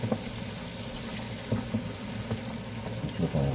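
Shrimp and chicken frying in a pan for low-sodium ramen, a dense loud sizzle with scattered pops and scraping stirs, close up and continuous.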